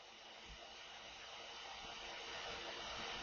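A sewing machine is stitching a fabric worm bin cover, giving a steady, close, continuous motor whir that holds one even level throughout, with no voices.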